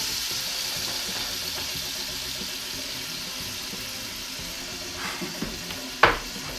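Ready-made Alfredo sauce poured into a hot pan for keto chicken Alfredo, giving a steady close sizzle and frying hiss with a sharper splash near the end.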